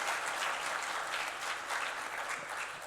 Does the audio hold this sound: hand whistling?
no